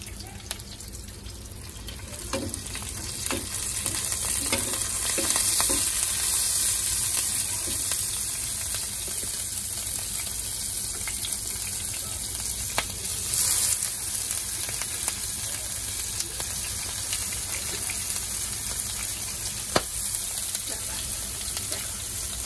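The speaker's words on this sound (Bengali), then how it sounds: "প্রথমে লঙ্কা জিরে রাঁধুনি সব কিছু ভেজে নিচ্ছি" Chilli, cumin and radhuni spices frying in hot oil give a steady close sizzle with a hissing, watery texture, occasional small pops and scrapes throughout.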